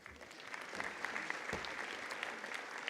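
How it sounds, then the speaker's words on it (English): Audience applause at a KESRA graduation ceremony in 2022, a sustained patter of many hands clapping, moderately distant and steady for a few seconds. "A round of applause for Dr. Emma Omwenga."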